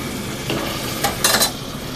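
Oil from fried hilsa fish poured into spice paste being sautéed for a pumpkin and hilsa curry gives a soft steady sizzle, with a couple of brief sharp hissing flares and light scraping of a spoon in the pan.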